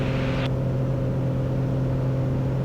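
Small airplane engine droning steadily as the throttle is brought back in flight, a constant tonal hum with a brief hiss at the start, heard from inside the cabin without speech.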